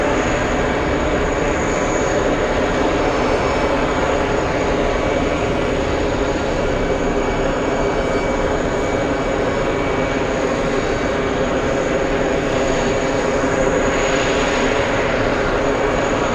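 Loud, sustained jet roar of an airliner arriving at JFK from Rome, a dense broadband rumble with a high engine whine that stays strong and even throughout, no voices.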